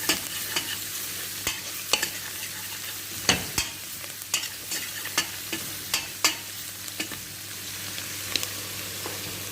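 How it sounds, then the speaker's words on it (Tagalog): Cumin, turmeric and baharat powders being stirred into a rice dish in a pan, with repeated sharp spoon scrapes and taps at an irregular rhythm over a continuous sizzle. "cumin powder, turmeric powder at saka mixed baharat powder. Halo-halo ilang na ganito guys."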